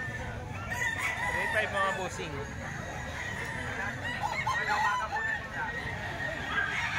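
A full stag rooster crows and clucks close by, its calls repeating over a steady barnyard bed while someone talks throughout.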